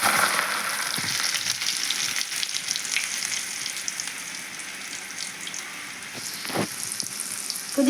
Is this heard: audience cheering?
no